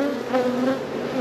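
Honeybees buzz loudly and steadily around an open hive during a spring inspection, a dense close-up drone with a wavering pitch and no talking.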